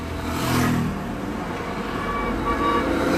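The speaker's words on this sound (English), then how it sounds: "The car engine is running, the air conditioner is on." A parked car's engine idles with the air conditioner running, a steady low hum with a brief swell early on, heard alone without talk.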